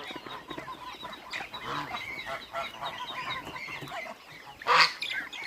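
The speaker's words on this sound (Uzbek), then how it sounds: "Mana bu 3 oylik g'ozlarim." Three-month-old geese with their goslings and mothers honking while feeding among grass, a busy flock of overlapping calls nearby, ending with one loud, sharp honk close up.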